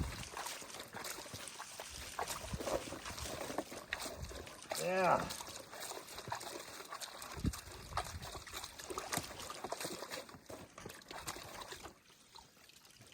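Water trickles and splashes steadily through a metal gold-panning sluice outdoors, with a brief voice partway through.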